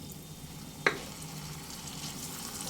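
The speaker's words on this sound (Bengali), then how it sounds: "এই পর্যায়ে দিয়ে দেব হাফ কাপ হালকা গরম জল" Half a cup of warm water is poured into fried spice masala for a Bengali bhetki fish gravy, giving one brief splash over a constant close sizzle of hot oil.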